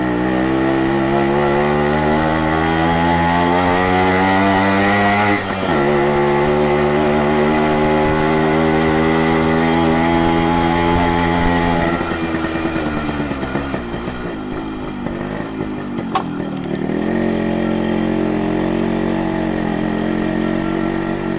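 A motorcycle engine revs up close with a sharp, raspy exhaust note, its pitch climbing, holding and dropping through repeated throttle blips over a steady idle, with no voices.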